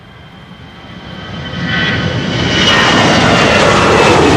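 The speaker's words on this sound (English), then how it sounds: "EasyJet flight 22514 to London Luton." An easyJet airliner bound for London Luton takes off from Schiphol's Polderbaan runway in windy weather, its engine roar building quickly from moderate to loud and close, with a rising jet whine.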